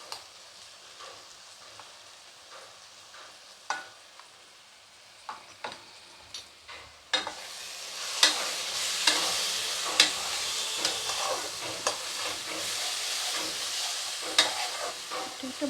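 Spices stir-fried with ginger paste and red chili powder in a pan for a potato and jackfruit curry, quiet scraping stirs at first, then a louder steady sizzle from about seven seconds with repeated sharp scrapes of the spoon.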